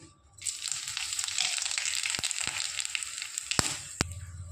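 Dried red chillies, torn by hand, and panch phoron five-spice hit hot oil for Bengali aloo chorchori, a bright steady sizzle starting after a short quiet moment, with a few sharp pops and spatters, close and fairly loud.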